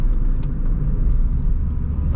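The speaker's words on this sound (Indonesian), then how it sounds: "Kita naik ke gigi 3 ya, mesin meraung" A Honda Mobilio's engine revs after a shift into third gear, giving a steady, close, low rumble with a constant road-noise wash and no voices.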